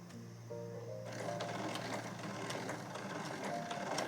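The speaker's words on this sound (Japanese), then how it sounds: "最後に一番最初に縫い始めたところのまっすぐな線を重ねて縫っていきます" Sewing machine stitching a straight seam on a tucked pouch, its steady fast mechanical whir close and fairly faint after a brief quiet hum at the start.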